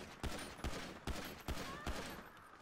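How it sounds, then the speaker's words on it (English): Gunfire in GTA 5 as police shoot a suspect: five sharp shots spaced about half a second apart, moderately loud, with no talk. "I think we'll shoot her in the leg."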